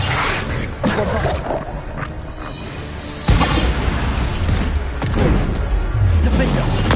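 Bombarda explosion spells burst repeatedly in Hogwarts Legacy combat, loud, dense booms and crashes layered with whooshing effects, with a player voice shouting over the fighting throughout.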